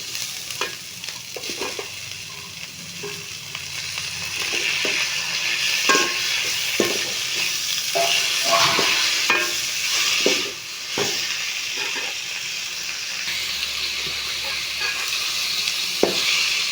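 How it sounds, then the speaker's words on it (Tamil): Onions and tomatoes sauté in a pan for Pongal sambar, a constant close sizzle and hiss broken by repeated scrapes and stirs of a spoon against the pan, no voices. "வெங்காயம் நல்லா வதங்கிடுச்சு தக்காளி போட்டுக்கலாம்"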